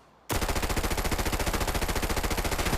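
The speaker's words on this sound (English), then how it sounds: "Now I'm gonna be shooting at these dummies over here." An MPX submachine gun firing at training dummies in the Arena Breakout shooter game, a loud sustained full-auto burst of rapid evenly spaced shots beginning abruptly after a short quiet moment, with no talk.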